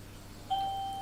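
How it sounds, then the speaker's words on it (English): A home doorbell sounds partway through as one sustained electronic tone that rings on steadily to the end over a faint room hum. "That's my doorbell."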